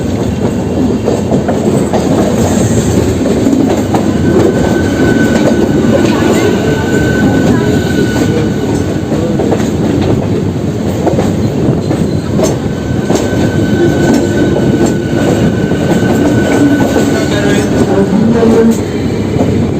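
Goghat local train, 37377, running from Howrah towards Rishra: a loud, continuous rumble of rail wagons with rhythmic clickety-clack over the joints and occasional wheel squeal, heard from on board throughout.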